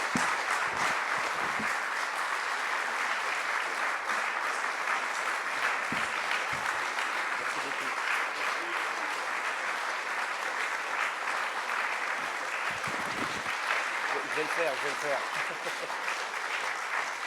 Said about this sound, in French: je pense que tu mérites un tonnerre d'applaudissements.